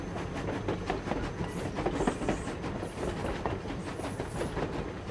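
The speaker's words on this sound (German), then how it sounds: "Guck mal, ziemlich viele Züge sind da." Trains rumble past in the factory video game Industria, with rhythmic clickety-clack from wheels on rail joints over a continuous rolling drone and a few faint high squeals, moderately close and steady.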